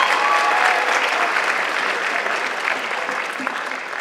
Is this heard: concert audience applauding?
yes